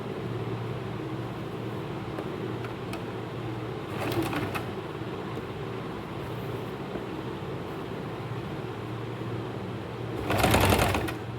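Sewing machine stitching a kurti, a steady low mechanical hum running throughout at moderate volume, with two brief louder bursts of faster stitching.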